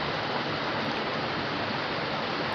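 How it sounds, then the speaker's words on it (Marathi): Steady rushing water runs continuously, loud and close, like a tap streaming into a metal vessel, as a pressure cooker is rinsed, with no voices. "कुकर धुतलेला होता आधी परत एक पाण्यात धुवून घेते"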